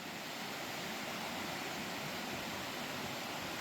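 River water gushes over rocks in a steady, loud, full-bodied roar, constant and close with no pauses and no voices.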